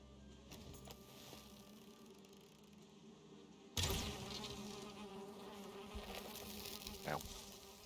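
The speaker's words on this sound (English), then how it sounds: "A bee?" A bee in the Valheim video game buzzes close by, a steady insect drone that swells sharply midway over quiet game ambience.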